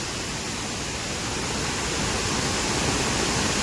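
A dense, unbroken roar of rushing water fills the whole clip, loud and steady, from a nearby swollen waterfall at Natal, Kankavli.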